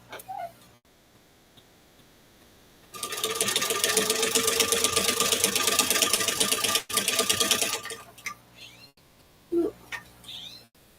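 A sewing machine fitted with a zigzag attachment stitches in a loud, steady whirring run of rapid ticks for several seconds, then stops, with a few clicks and faint sounds before and after.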